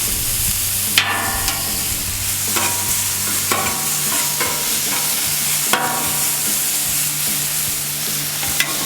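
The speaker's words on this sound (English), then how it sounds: "let's get our beef on for this beef fried rice" Beef sizzles steadily on a Camp Chef FTG600 flat top griddle for fried rice, with sharp metallic spatula scrapes and taps breaking through the constant frying hiss.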